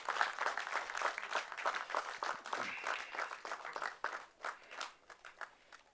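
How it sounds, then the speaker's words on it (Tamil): Audience applause at a Tamil film's audio and trailer launch, a moderate patter of clapping that swells and fades across the hall with no speech over it. "வாங்க நல்ல பலத்த கரகோஷம் கொடுங்க."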